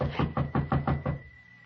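Six quick, evenly spaced knocks on a door in a radio drama, close and firm, with the last knock fading into quiet.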